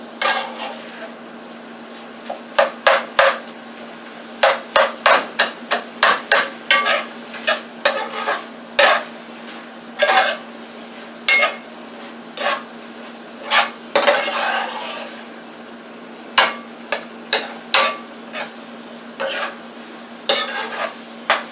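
A spoon stirs onion and ground beef cooking in a pan for an Italian meat sauce, with repeated sharp clinks and scrapes against the metal over a faint steady sizzle and low hum, irregular but continuous throughout.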